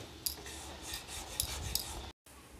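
Banana sandesh mixture with sugar being stirred in a pan over a low flame, soft scraping and rubbing strokes in quick succession, close and quiet, broken by a brief dropout near the end.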